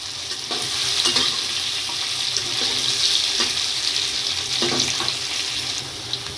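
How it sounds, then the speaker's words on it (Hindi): Okra frying in a pan, a steady close sizzle with occasional stirring scrapes, no voices. "भिंडी को भी 2-3 मिनट हो गए फ्राई करते हुए"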